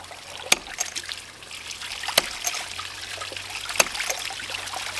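Water runs through a ram pump drive pipe and out its waste valve, a steady trickling wash with sharp periodic clacks of the valve roughly every second and a half, close and fairly loud, no talking.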